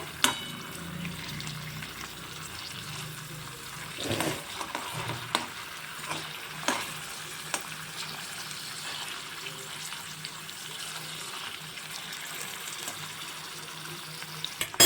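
Paneer cubes sizzle steadily in hot ghee in a pan, a continuous fine crackle with occasional soft stirring knocks, close and moderately loud, no voices.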